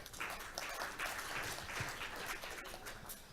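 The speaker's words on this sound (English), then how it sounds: "Please give me a hand of applause for them." Conference audience at a blockchain keynote event applauding, a faint, distant, steady patter of many hands clapping that holds for a few seconds.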